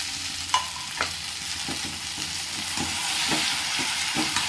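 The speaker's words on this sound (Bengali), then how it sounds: "এবারে ভেজে রাখা পনিরগুলো দিয়ে দেবো।" Fried paneer cubes for hotel-style chilli paneer tossed into a pan of sizzling Schezwan-sauce masala, with a steady hiss of frying under a handful of soft spatula stirs and scrapes, close and continuous.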